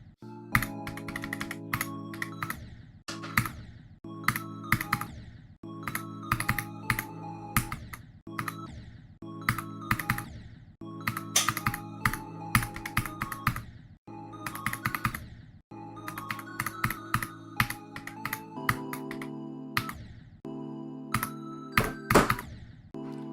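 Rapid, uneven clatter of computer keyboard keys pressed in bursts during a Geometry Dash session, close and fairly loud, with brief pauses between flurries and no talking.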